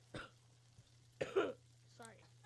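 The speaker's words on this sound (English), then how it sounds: "I was actually coughing." A few short, rough coughs burst out between pauses, the loudest in the middle, close to the mic over a steady low hum.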